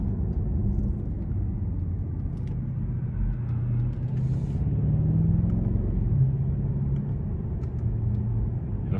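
Inside a 2018 BMW M550xi driven in sport mode with manual shifts, a low engine and road rumble drones steadily, with faint pitch sweeps as the gears change.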